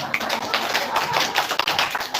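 An audience at a lecture hall talk breaks into brief, dense applause, a steady patter of many hands clapping close by for a couple of seconds.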